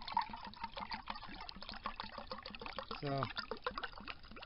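Water pouring into a canteen cup set up with a DIY twig hobo stove, a steady trickling fill heard close up while a voice speaks briefly.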